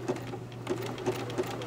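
A domestic sewing machine stitches the back bar of a buttonhole in a short, steady run, its needle tapping in a quick even rhythm close by with no talk over it.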